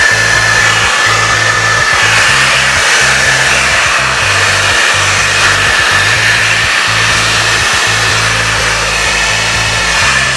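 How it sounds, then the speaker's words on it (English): A blow dryer fitted with a diffuser runs on low speed while drying hair, a loud, steady, close whir with a slight pulsing hum throughout. "I'm gonna take my blow dryer and I'm gonna ensure that I have the diffuser on"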